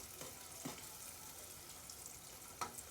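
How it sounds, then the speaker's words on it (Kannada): Onions frying in a pan for biryani until golden, a soft steady sizzle with a few faint clinks of stirring, heard quietly and without speech. "ಸ್ವಲ್ಪ ಫ್ರೈ ಮಾಡೋಣ ರೀ, ಸ್ವಲ್ಪ ಅಂದ್ರೆ ಗೋಲ್ಡನ್ ಕಲರ್ ಬರೋವರೆಗೆ ರೀ"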